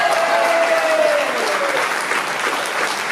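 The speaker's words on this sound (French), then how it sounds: "une ovation pour Francine et merci" A party audience at a 60th birthday celebration gives a sustained ovation, dense steady applause with crowd noise running at even loudness throughout, with a faint whistle or cheer early on.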